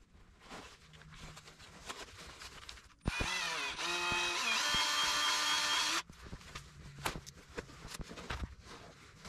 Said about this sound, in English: We are going to use our friendly socket and electrical tape to make a mini roll.